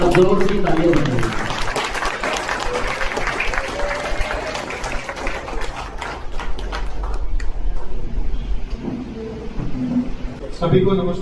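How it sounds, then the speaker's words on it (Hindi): An audience at a BJP youth joining event in Andaman claps loudly and continuously, with a dense patter that eases toward the end. Voices and speech run through it. "जोर से तालियां बजाइए।"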